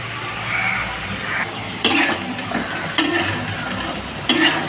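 Onion pakoda deep frying in hot oil, a steady close sizzle broken by a few sharp stirring or ladle clinks.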